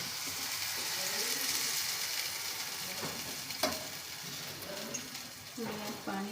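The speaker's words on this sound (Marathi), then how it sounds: "आता आपल्याला कढी यामध्ये सोडायची आहे." Kadhi made with buttermilk, besan and turmeric goes into a hot pan, giving a steady faint sizzle with scraping stirs and occasional clinks, while a voice talks quietly over it.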